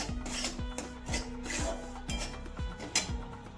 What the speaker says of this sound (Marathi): तांबूस रंग येईपर्यंत चांगला भाजून घ्यायचा, म्हणजे रवा मस्त लागतो चवीला